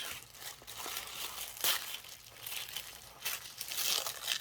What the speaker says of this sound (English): I want to keep some of this tissue paper, so I'm not going to just tear into it.